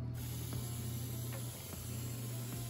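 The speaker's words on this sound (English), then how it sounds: "now I'm just gonna give the whole thing a spray down to keep the humidity up." A hand pump sprayer mists a frog enclosure to keep humidity up, producing a steady soft hiss over a low hum with a few faint clicks, no talking.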